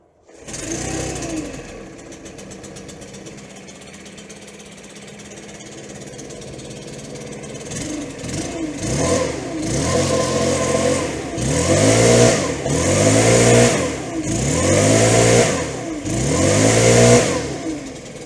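A freshly tuned Stihl backpack blower engine idles steadily, then revs up repeatedly in loud rising surges with a buzzing two-stroke roar. It is close, loud and alone, with no voices.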